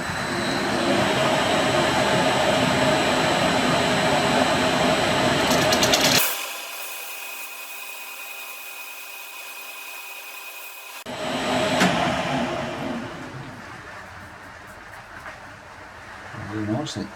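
A lathe takes a light cut off a metal part, a loud grinding, hissing machining noise that stops abruptly, leaving a quieter motor hum before a short burst of cutting returns.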